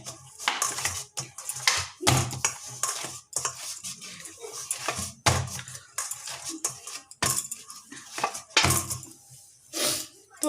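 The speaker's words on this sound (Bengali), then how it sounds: "আমার আরও একবার আমি 2-3 মিনিট ঠেসে নেব ময়দাটা" Flour dough for rumali roti kneaded by hand, with steady, irregular thumps, slaps and pressing knocks against a surface or bowl, close and fairly loud, continuing throughout without speech.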